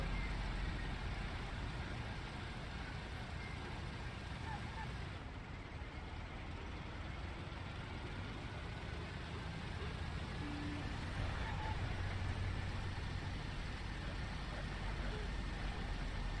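A car engine in the Mafia video game, a steady low continuous rumble that holds without a break, droning loudly throughout.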